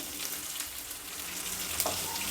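Chopped medium-sized onion frying in a pan, a steady close sizzle running evenly throughout with a faint brief clink midway.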